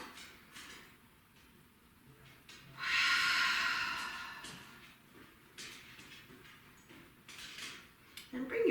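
A slow, deep inhale drawn down into the belly during a yoga sculpt class, rising as a clear airy rush that swells and then fades, with softer breaths around it in a quiet room.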